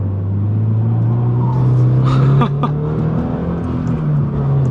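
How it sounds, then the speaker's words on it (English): A 2022 Subaru BRZ fitted with an HKS Spec L exhaust revs close by, a steady engine drone swelling briefly with a rising rev in the middle before settling back, with faint voices underneath. "Dude, your exhaust is way nicer than mine."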